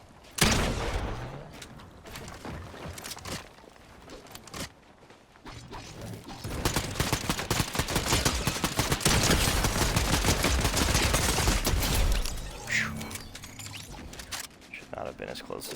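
Video game gunfire rattles in a long, dense burst of rapid shots with mechanical clanks and creaks, interrupted by gaps and softer handling noises.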